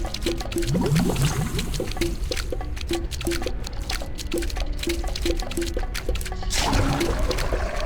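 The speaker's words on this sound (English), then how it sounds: "I can pour this in the manatee's central bile pool to be extracted" A liquid poured in the video game Tales of Monkey Island, manatee laxative going into a bile pool, sounds as a steady trickling, dribbling stream over several seconds against a busy game music backdrop.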